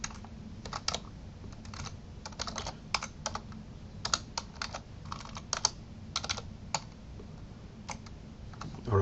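Computer keyboard being typed on while writing code, in irregular bursts of close, crisp key clicks separated by short pauses over a low steady background hum.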